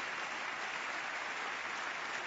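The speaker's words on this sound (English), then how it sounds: "It's polite applause, but it's longer than I thought" Polite applause from an audience at a Barack Obama speech, a steady, even patter of many hands clapping continuously at moderate distance, with no voices over it.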